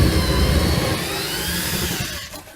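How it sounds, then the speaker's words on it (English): A power drill drilling out rivet heads on a 1966 Viscount Ambassador caravan wall whirs at high speed for a couple of seconds, loud and close, then winds down as it slows. "So we'll drill the heads out"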